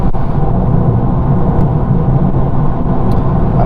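Heavy car with a small 1.5-litre engine cruising in sixth gear off the accelerator, a steady low road-and-engine rumble with tyre roar from inside the cabin, no talk.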